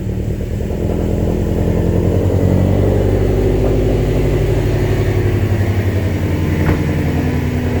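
A modified 450 WHP Subaru STI with a stock block and 33,000 miles roars through a cold start, its loud, steady engine note holding near and constant throughout.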